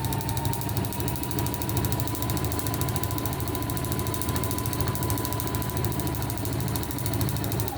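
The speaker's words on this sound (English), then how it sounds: "it is going to make that snappy sound. That's it punching through this scratchy stuff." A sewing machine runs steadily, its needle punching rapidly through stiff, scratchy stabilizer with a continuous, buzzing, snappy mechanical chatter.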